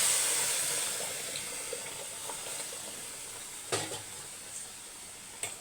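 Hot water poured into a pan of lemon rice with capsicum, giving a steady hiss and soft sizzle with faint stirring scrapes and a few sharp clinks of a spoon against the pan, close by with no talking.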